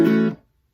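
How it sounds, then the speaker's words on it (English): A G prime chord on guitar played with a muted down-up strum, a single short bright burst that rings briefly and cuts off quickly, alone with no talking. "that G prime chord sounds like this"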